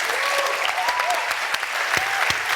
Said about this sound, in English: Give them a bigger round of applause than that